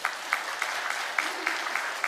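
Scattered, fairly soft clapping from a church congregation for the choir, with individual claps standing out in a loose rhythm.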